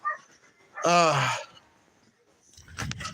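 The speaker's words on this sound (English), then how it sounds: "silly dog." A dog gives a loud, drawn-out whimpering whine, followed after a pause by a few short, muffled barks, heard close and clear in a quiet room.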